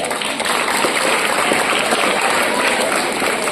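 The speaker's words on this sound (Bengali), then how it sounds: "একটি তালি যাচ্ছিলাম প্রধান শিক্ষকের জন্য জুড়ে।" An audience at a school event applauds the headmaster, dense steady clapping from many hands throughout, loud and close.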